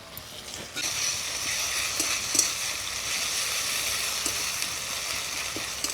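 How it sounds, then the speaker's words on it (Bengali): Onions fried light red in a pan with ginger-garlic paste added sizzle in a steady bright hiss that jumps louder near the start, with faint scrapes of stirring and no talk. "পেঁয়াজ হালকা লাল হয়ে ভাজা হয়ে গেছে এবারে পেঁয়াজের মধ্যে দিয়ে দিব আদা রসুন বাটা"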